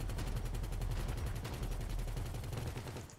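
Rapid, continuous bursts of heavy automatic gunfire from a vehicle's front-mounted gun in GTA 5 during a heist finale, loud and close, with dense rhythmic shots that fade slightly at the end.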